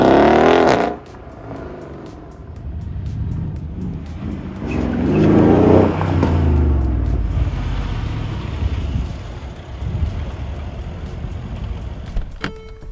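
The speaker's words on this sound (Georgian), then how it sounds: "CLS 63 AMG." Mercedes CLS 63 AMG engine revving and accelerating, a loud continuous roar that swells and surges for several seconds with wind-like rush, no talking.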